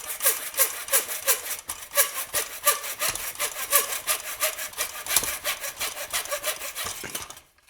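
Hand miter saw cutting through wood, a fast regular rasping rhythm of push and pull strokes, close and clear, ending abruptly as the cut finishes.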